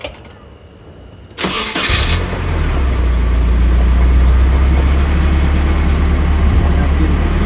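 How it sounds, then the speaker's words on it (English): A car engine cranks and catches after a fuel pump replacement, then settles into a steady, loud low idle that runs on without a break. "car idles, starts up like a dream"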